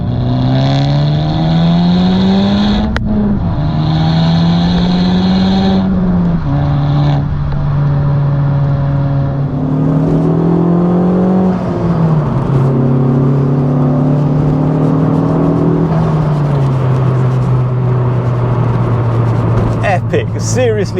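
A Honda Civic Type R FK2 with a Tegiwa B-pipe exhaust drones loudly from inside the cabin, the engine note rising and falling through several pulls as someone talks over it.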